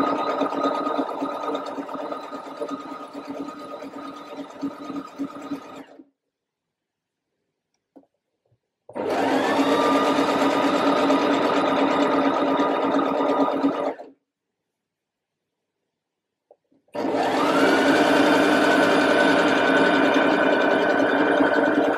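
A sewing machine stitches crop top fabric in three bursts of rapid, even whirring, separated by two short silent pauses, close and loud with nobody speaking.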